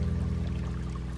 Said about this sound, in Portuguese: chegamos à beira de um córrego de águas cristalinas